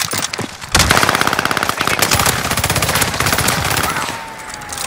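Rapid automatic gunfire rattles through a video game shooter, loud and sustained bursts of close machine-gun fire with a brief gap near the start, then continuous dense volleys.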